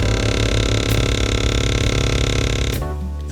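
A faulty damper motor in a GE refrigerator runs with a loud, steady buzzing drone that carries dense harmonics, then cuts off abruptly near the end, leaving a quieter hum behind.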